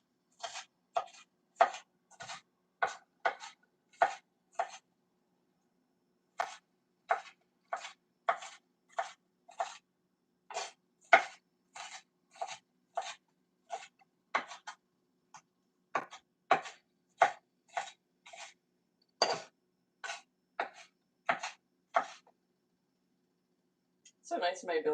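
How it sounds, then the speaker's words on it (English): A knife chopping onion on a cutting board in quick bursts of sharp taps, close and crisp, with brief pauses between runs and no voices. "Chop this a little bit more."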